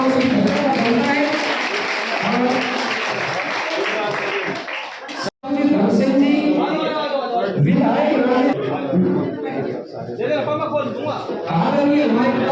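Village audience applauding during an MLA's thank-you visit to villages around Bahadurgarh, a dense, continuous wash of clapping mixed with crowd chatter and a loud voice over a PA, breaking off sharply for an instant midway.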